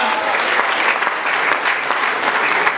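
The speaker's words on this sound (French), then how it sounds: "que les invités se lèvent, nous allons les applaudir, les accueillir." A church congregation at a Sunday service applauds its guests with dense, sustained clapping that stays steady and close throughout, with no speech over it.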